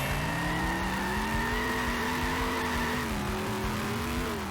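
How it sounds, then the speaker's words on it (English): A car engine in The Simpsons: Hit & Run drones as a loud, steady, buzzing tone with clear harmonics that rise and dip slightly over a few seconds, heard alone with no voices. "This car noise is so obnoxious."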